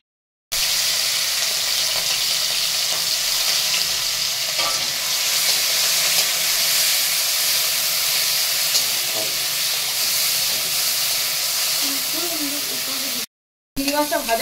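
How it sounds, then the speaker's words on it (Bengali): Prawns fry with salt and turmeric in oil in a wok, giving a loud, continuous sizzle with occasional stirring. A voice briefly speaks near the end, and there is a short gap of silence. "চিংড়ি মাছটাকে ভেজে নেব একটু নুন হলুদ দিয়ে।"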